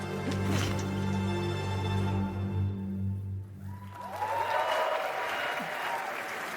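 Applause from a crowd builds and carries on steadily, a dense patter of many hands clapping, with some voices and noise underneath.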